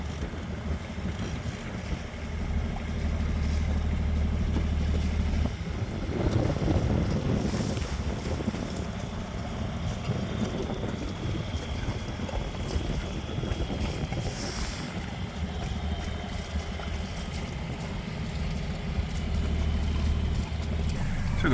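A sailboat under head sail in about ten knots of wind, its engine ticking over, with steady wind rush and water noise close around the hull throughout.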